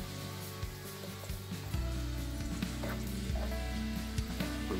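Meat sizzling on a hot grill after Italian salad dressing went in, a steady dense crackle and hiss up close with occasional scraping and clinks, no voices.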